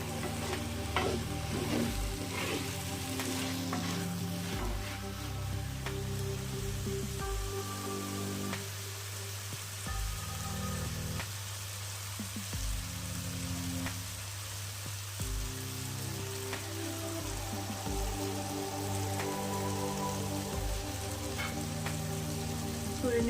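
Ridge gourd sautéing with chili powder in a pan, giving a steady soft sizzle and frying crackle with occasional stirring scrapes, close and fairly quiet, no talking.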